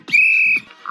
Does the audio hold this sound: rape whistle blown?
yes